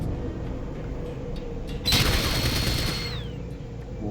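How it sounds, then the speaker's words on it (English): Gunfire from outside the map in Fallout Tactics, Cheyenne Mountains: a low rumbling background suddenly swells into a loud burst of shots about halfway through, then trails off into a fading whine. "There's people shooting at us from outside the map?"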